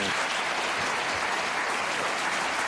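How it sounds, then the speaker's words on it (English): A studio audience applauds warmly in a steady, full wash of clapping that holds evenly throughout, with no talk over it. "People always applaud that"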